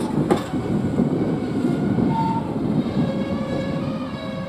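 A train rolls along at Didcot Parkway station with a steady rumble and rattle, brakes squealing thinly in high whines as it slows to a stop.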